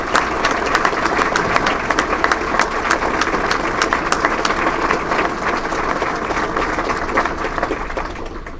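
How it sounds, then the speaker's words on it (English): A large audience at an awards ceremony for police and first responders applauds in a long, full round of clapping that stays loud and steady throughout, easing only slightly near the end. "Let's give them all a round of applause."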